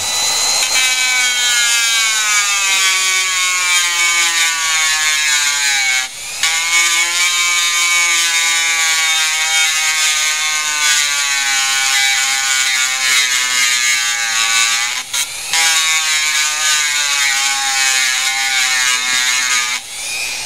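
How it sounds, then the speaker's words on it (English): A small grinding wheel shapes a handmade bone guitar nut, whining steadily and loudly close by for the whole stretch, with its pitch sagging briefly under load twice. "I'm just basically just cleaning off my little grinding wheel now and then."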